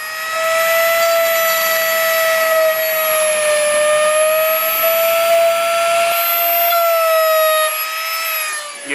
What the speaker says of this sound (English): pulling out the dremel